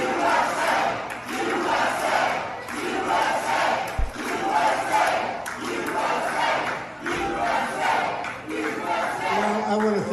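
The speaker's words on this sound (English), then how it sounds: "The crowd chanting USA when Trump enters." A large crowd at an Iowa political rally chants in unison as Trump enters, a loud rhythmic roar of voices repeating in waves with occasional thuds.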